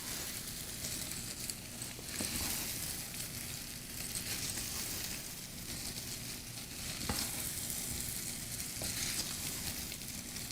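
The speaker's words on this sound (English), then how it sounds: "then you just have to fry it till it's like, coated." Split lentils fry with spices in a pan, giving a continuous crackling sizzle with occasional scrape-and-stir sounds from a utensil, close up, steady and moderately loud throughout.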